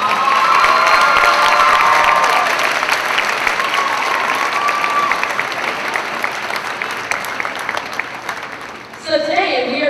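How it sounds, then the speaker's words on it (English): An audience at a school spring concert claps and cheers loudly and steadily. The applause slowly fades toward the end, and near the close a few voices and other sounds come in. "Give them a round of applause, that's really good."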